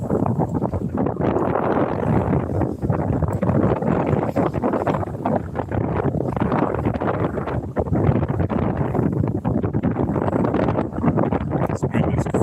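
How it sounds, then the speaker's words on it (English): Strong outdoor wind buffets the microphone during a fishing trip for snook, redfish and trout, a loud continuous low rumble that gusts unevenly throughout. "This wind is crazy right here."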